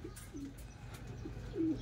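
Racing pigeons at their loft give a few soft, low coos, faint and intermittent against quiet background noise, with one slightly louder coo at the end.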